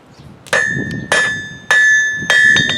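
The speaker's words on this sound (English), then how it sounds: "when I start to actually use my hammer on the anvil" A blacksmith's hammer strikes hot metal on an anvil while drawing a taper: four loud, ringing blows with a bright sustained metallic tone, evenly spaced, with the last one followed by two quick lighter taps, very close.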